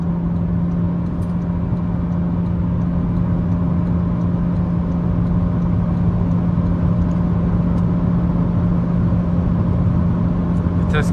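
Interior drone of a car with a CVT transmission climbing a gentle grade, a loud steady engine and road hum that holds one even pitch throughout with no gear shifts.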